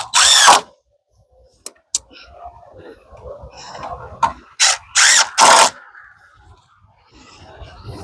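A power drill used while framing a wall with a door and window for a small off-grid tiny house, heard in several loud, close bursts of whirring with pauses, along with some clatter and handling noise.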